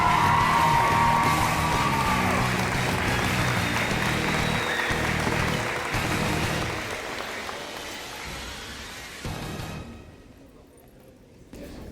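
Crowd applause at a school letter of intent ceremony, loud and sustained at first with a few whoops, then thinning and fading toward the end.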